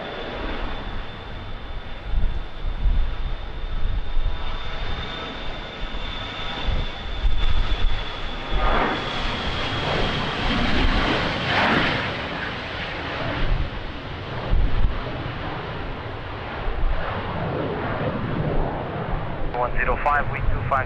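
A fixed-wing airliner landing on runway 20 at Lisbon Airport in strong crosswind, a loud sustained engine roar buffeted by wind on the microphone, with radio voices talking over it.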